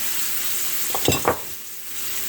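Pan juices sizzle for shrimp being cooked, a close, steady hiss with a brief burst of louder spattering and stirring near the middle before settling back.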